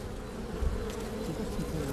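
A bee colony buzzes steadily and densely, a close, continuous swarm hum with no speech over it.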